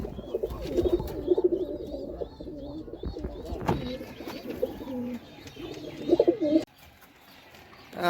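Pigeons, including red and Giribaz birds kept in a loft, coo repeatedly in low rumbling phrases close by, with a few chirps above; the cooing thins out and fades near the end.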